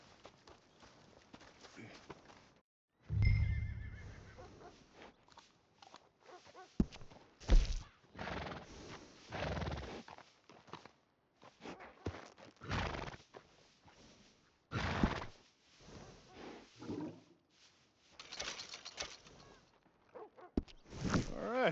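A horse in Red Dead Redemption 2 gives a loud, close whinny, followed by repeated hoof clops and snorts in irregular bursts, with some speech now and then.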